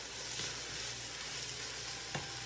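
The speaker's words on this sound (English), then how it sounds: "So I'm just going to stir in the pot and getting the ground beef and the meat" Ground beef browns in a pot for spaghetti sauce while being stirred, giving a steady, close sizzle with a couple of sharp scraping clicks and no talking.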